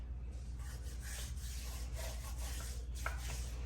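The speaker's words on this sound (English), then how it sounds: "So you just wanna put some seasoning, rub it all into there." Seasoning rubbed by hand into a whole fish being prepared for Jamaican-style stuffed steamed fish, a soft continuous close scraping and rubbing with no talk.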